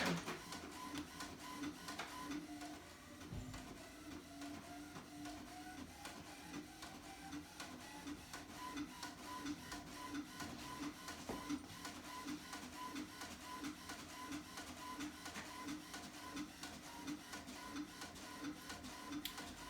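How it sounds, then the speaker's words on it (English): An inkjet printer runs steadily for a long stretch printing planner stickers on full-sheet labels, its print head whirring back and forth in a repetitive mechanical rhythm, with no talking. "it is going to send it to the printer, and we will be able to hear that."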